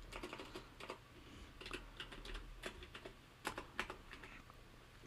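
Quiet, intermittent typing on a computer keyboard, with short clusters of soft key clicks and brief pauses.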